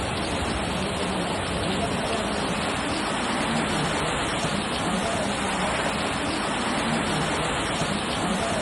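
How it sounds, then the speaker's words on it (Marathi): Heavy rain driven by strong wind lashes a wedding pavilion, a dense, loud, unbroken roar of downpour and gusts running steadily throughout with no pause. "सोसाट्याचा वारा आणि मुसळधार पाऊस आल्यामुळे जो तो जिथे मिळेल तिथे आडोशाला थांबू लागला"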